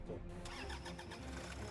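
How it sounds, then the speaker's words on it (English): A 2013 Toyota Land Cruiser Prado diesel engine cranks and fires in minus 20 degree cold, a steady low rumble settling in close and loud with no talking. "I push the start button. The last engine start was made an hour ago."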